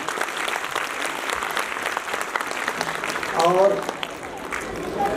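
An audience claps steadily for a speaker at a public talk on rivers, with a voice briefly speaking over the applause partway through.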